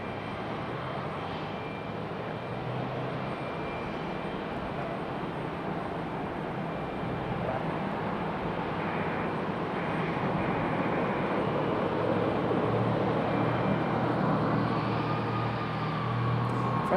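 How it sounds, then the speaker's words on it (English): A Frontier Airlines airplane on the runway at Raleigh-Durham International Airport gives a steady, even jet-engine roar that builds slightly over time, heard from a moderate distance without speech. "Frontier getting off the runway early."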